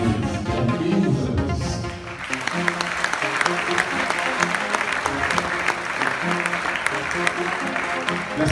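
Audience applause fills the room at the closing-night fashion show of Cameroon's designers' centre, a steady dense clapping that swells after a brief lull early on and continues throughout, with a voice briefly over it at the start.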